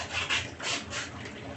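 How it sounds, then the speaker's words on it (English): Hands rubbing together during handwashing, with close, soft swishing strokes in a few rhythmic pulses, heard alone. "Then rotating and rubbing the thumb, including the fingers."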